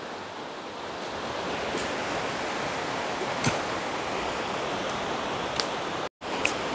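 A river near Candi Batur in Pemalang flows with a steady, dense rushing wash, constant and moderately loud, with a brief dropout near the end and no voices.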